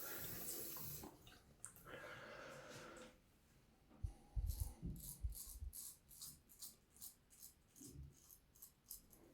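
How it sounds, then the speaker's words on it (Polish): A straight razor is rinsed under a running tap, water splashing and gurgling in a sink with intermittent knocks and shifting flow, close by and fairly quiet. "można również też spłukać pod bieżącą czystą wodą"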